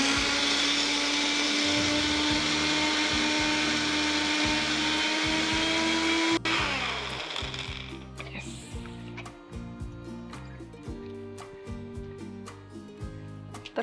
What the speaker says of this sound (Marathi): तर आता आपल्याला हे मिक्सर मधून एकदम बारीक असं करून घ्यायचंय.